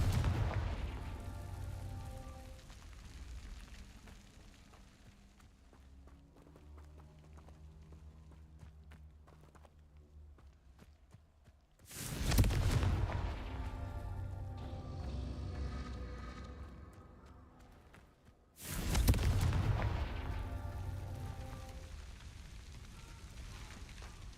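Confringo blasting spells explode in the Hogwarts Legacy video game, with two loud, booming blasts that each trail off into a long rumble, set against quieter game ambience with faint crackling.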